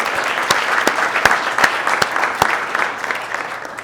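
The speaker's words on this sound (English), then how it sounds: "So I want to give a round of applause and congratulations early." A room full of people applauds at a civic State of La Grange address, a dense steady patter of many hands with a few sharper nearby claps standing out, sustained throughout without speech.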